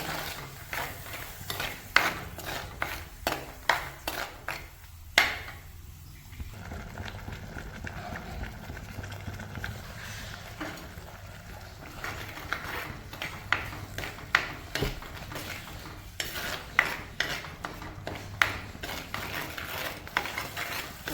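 Masala sizzling and being stirred in hot oil in a pan for a Kerala curry: a soft steady hiss with repeated scraping and clacking ladle strokes in an uneven rhythm, close and fairly quiet.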